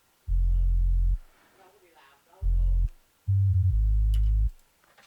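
Three bursts of deep, pure sub bass tone, the last one longer and wobbling slightly, with a quiet voice speaking briefly in the gaps.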